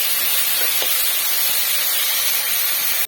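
Chopped pumpkin stalks sizzle loudly in a hot pan as they are stirred, a steady dense hiss that cuts off abruptly at the end.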